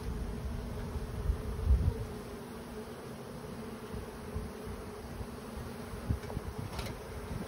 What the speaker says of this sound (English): I'm just looking in the bees as they crawl into the box